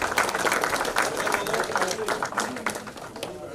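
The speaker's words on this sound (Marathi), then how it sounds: "जोरदार टाळ्या होऊ द्या एकदा तुम्ही" Dense, steady clapping from an audience at a farewell ceremony honouring a registrar, continuing at an even level for a few seconds.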